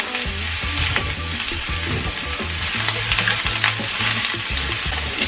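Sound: onions frying in olive oil in a frying pan

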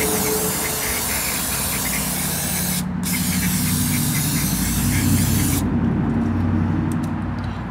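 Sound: brake cleaner being sprayed

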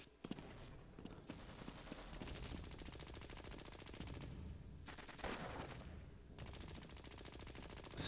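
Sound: gunfire in the video game Half-Life: Blue Shift

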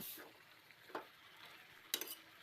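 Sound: stirring spinach (shish palong shak) with vegetables in a pan

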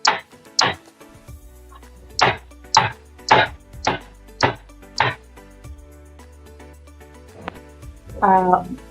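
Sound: tapping cake tin to remove batter bubbles

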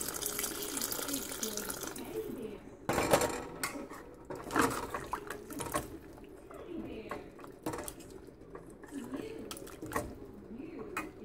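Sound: water poured into cooking pot

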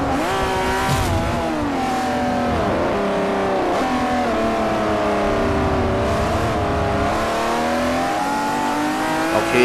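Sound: Saleen S5S engine racing in video game Forza 4

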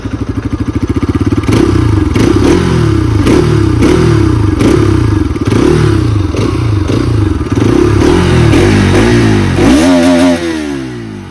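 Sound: Bajaj Pulsar RS 200 motorcycle engine revving, exhaust note

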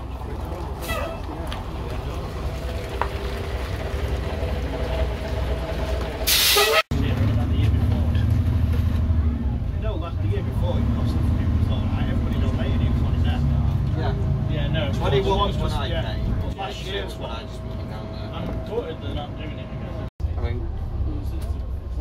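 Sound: Dennis Dominator double-decker bus running, air brake

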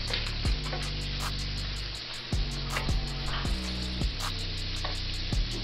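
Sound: shrimp frying in a pan

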